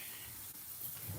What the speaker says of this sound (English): My rice water overflowing.